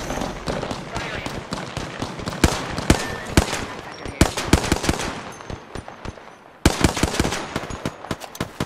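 Rapid bursts of automatic gunfire from a firefight in the battle royale game Apex Legends, loud and close, with sharp repeated shots in clusters and brief lulls between volleys.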